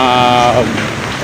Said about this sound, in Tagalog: kasi ulan talaga maulan siya